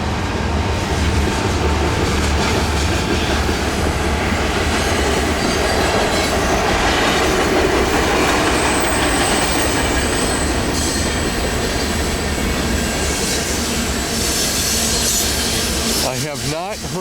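A CN freight train with grain cars rolls east around a big curve at Brantford, a loud steady rumble and clatter of wheels on rail with high squeals from the flanges, growing louder near the end.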